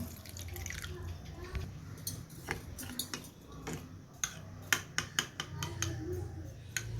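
Water poured over a spoonful of basil seeds soaking in a kitchen bowl, a quiet run of small drips and light splashes with a few sharp clinks of a spoon or dish, no talking.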